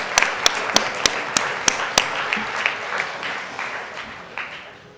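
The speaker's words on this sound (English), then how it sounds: "A round of applause for Anne Bonny, the pirate Anne Bonny." Audience of children at a Christmas lecture applauds, sharp early claps giving way to a sustained, moderately loud wash of clapping that fades slightly toward the end, with no talk over it.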